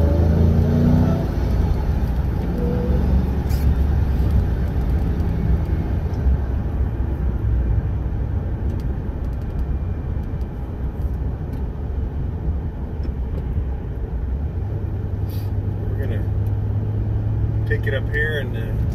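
2005 Ford GT supercar engine droning steadily from inside the cabin while driving a smooth back road, a constant low rumble with road and wind roar throughout, occasional clicks and ticks, and a deeper tone swelling near the end.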